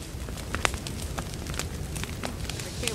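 A bonfire burning bodies in The Forest survival game gives a steady roar with frequent sharp crackles and pops scattered throughout, fairly loud and close.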